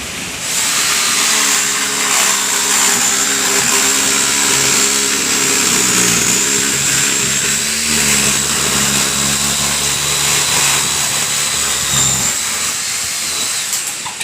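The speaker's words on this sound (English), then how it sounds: "so that way you can run your Sawzall blade down in between the coil" A Sawzall reciprocating saw cuts down through the coil of an air conditioner being scrapped, a loud, continuous buzzing motor roar with metallic grinding that holds for the whole stretch.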